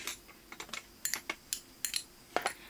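A knife chops fresh basil finely on a cutting board for bruschetta, a quick irregular series of crisp, close taps in small bursts against a quiet background.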